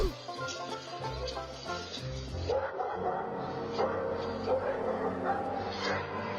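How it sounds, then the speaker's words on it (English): Two guard dogs defend their property, barking and yipping at an intruder in loud, repeated bursts that carry on without pause. "This daredevil didn't count on 2 guard dogs who were trained to defend their property."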